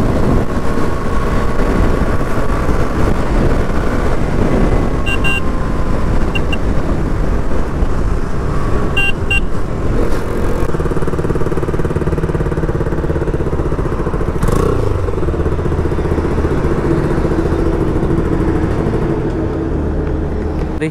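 A modified KTM Duke 200 motorcycle on the move, its engine droning steadily and loudly close by for the whole stretch, with brief clicks and knocks breaking through now and then.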